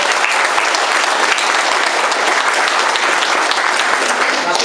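A crowd at a primary school event gives loud, sustained applause for the company Agram. Dense, even clapping continues for the whole stretch without a break.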